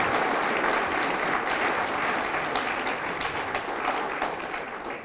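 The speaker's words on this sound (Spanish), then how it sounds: "para los que les pido un fuerte aplauso" Audience applause at a rural education team panel discussion: steady, fairly faint clapping from a crowd, sustained for several seconds and tapering slightly at the end, with no voices over it.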